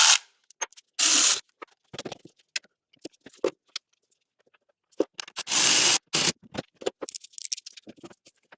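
Ratchet tightening thermostat housing bolts on a Jeep 3.6 V6 engine, heard as short bursts of clicking and rattling at close range, separated by quiet gaps and small taps and scrapes of tools.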